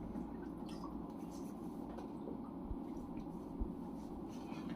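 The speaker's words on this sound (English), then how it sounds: "I'm going to do a quick rinse to take off the alum" Water splashes and drips while a face is rinsed after shaving to remove alum, soft, close, irregular wet sounds over a steady low hum, no voices.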